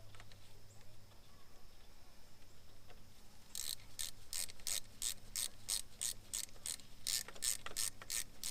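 A ratchet fitted with a 13 mm socket clicks in a quick, regular series of bursts while turning bolts on a BMW 135i N54 during oil filter housing work, heard close after a stretch of faint shop background.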